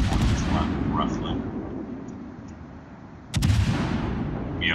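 Warship guns fire in a naval video game, with heavy deep booms at the start and another loud blast past midway, each trailing into low rumbling, and faint voice sounds underneath.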